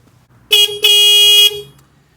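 A cheap Chinese copy of a Hella-style aftermarket horn on a small city car blares twice, a short blast then a longer steady one, loud and close with a slightly tinny, buzzy tone.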